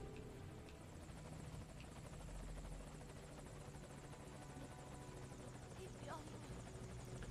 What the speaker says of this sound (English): This is Morpho, arriving shortly at LZ